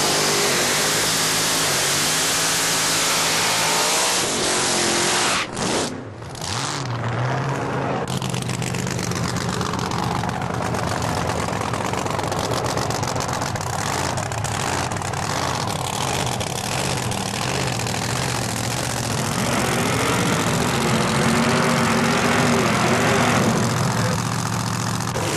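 A Vega funny car's engine roars at a drag race, loud and sustained with rising and falling revs and a brief dip early on. No voices are heard.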